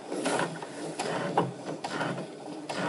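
A sewing machine runs a back stitch at a 2.5 stitch length while sewing a fabric soup bowl cozy, giving a fairly quiet, steady mechanical whir broken by small clicks and knocks.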